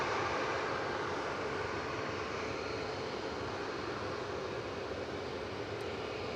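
Logan Air Embraer ERJ 145 airliner arriving from Aberdeen at Manchester Airport, a steady broad engine roar that holds at constant loudness throughout.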